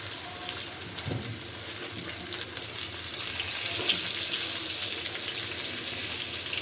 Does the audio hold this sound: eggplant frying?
yes